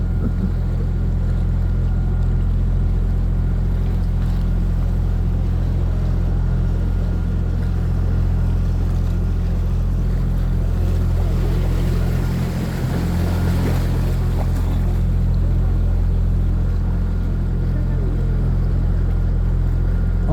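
A boat engine drones steadily at close range as the boat moves along a canal in Bruges in December, with low rumble and faint water wash, no voices, continuous throughout.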